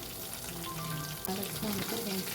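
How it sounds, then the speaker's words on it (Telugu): Fish pieces fry in hot oil for a fish pickle, with a continuous close sizzle and crackle broken by the occasional scrape of a turning spoon; faint voices sound in the background. "ఈ కలర్ వచ్చేంత వరకు ముక్కలను వేయించుకోవాలండి"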